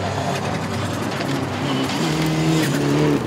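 Rally cars at speed on the final special stage of the Rocky Mountain Rally, a loud roaring engine rising in pitch through the gears with tyre noise, close and continuous.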